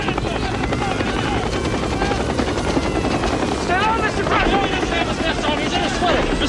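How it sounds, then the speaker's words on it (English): A helicopter close by with a loud continuous rotor thump and engine roar throughout, while people shout over it. "We're going to run to the chopper."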